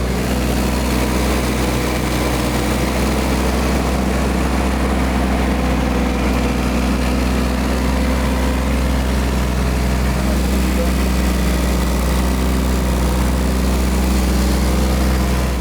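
A heavy excavator engine idles loudly and steadily throughout, a constant low rumble with a droning hum that never changes.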